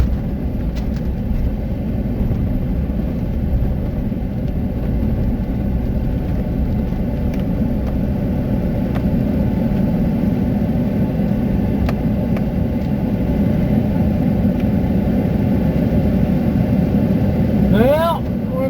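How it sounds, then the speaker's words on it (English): A big municipal City of Chubbuck truck idles nearby with a continuous, deep, steady engine rumble that stays even in loudness throughout, with faint higher engine whine above it. "there's City of Chubbuck right there in one of their big trucks"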